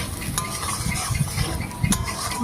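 Chickpeas frying in a pan with a steady close sizzle and scraping stir, punctuated by a couple of brief utensil clicks, with no voices.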